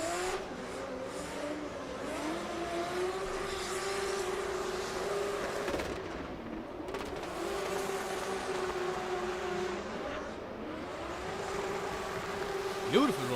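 A drift car runs close to a concrete wall at an international drift championship qualifier in Oman, its engine droning steadily and rising and falling in pitch, with commentary faintly over the continuous roar.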